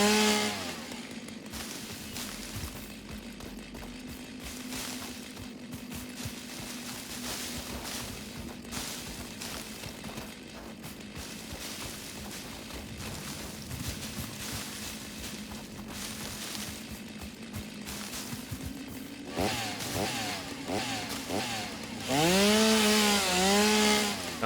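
A chainsaw in the video game Satisfactory, fed with solid biofuel, drones steadily while cutting through wood and leaves, its engine note holding for long stretches before revving in rising and falling sweeps near the end.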